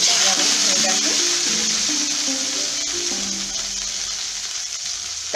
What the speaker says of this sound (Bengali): তার জন্য আমি কুমড়োগুলো তেলে দিচ্ছি, তেলটা গরম হয়ে গেছে।